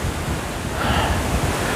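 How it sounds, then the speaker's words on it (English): Wind gusts by a river on private property in a broad, steady roar of rushing air with a brief swell near the middle, no voices heard. "It's a bit windy."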